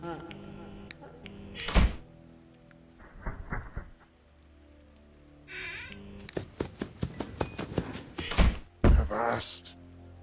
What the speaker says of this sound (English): Okay, you close the door.